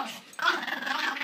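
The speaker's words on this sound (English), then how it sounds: "Hi, Lily's a nice dog." A Pomeranian dog growls in a low, continuous rumble close by, rising after a brief pause and holding steady to the end, with no talking over it.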